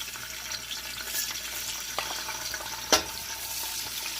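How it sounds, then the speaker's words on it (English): Onions frying in a pot for ogbono soup, a faint steady sizzle with light crackles and a sharper clink near the end, heard alone without talk. "I'll add my onion to the pot."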